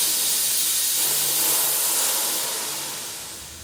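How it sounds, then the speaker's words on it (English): A FogClean fogging system's tank is depressurized through its air valve, releasing a loud, steady, close hiss of escaping air that fades slightly toward the end. "it's slightly easier to do it out of the air valve on the tank"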